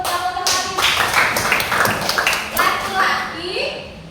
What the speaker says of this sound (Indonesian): Kasih tepuk tangan untuk Hafiz.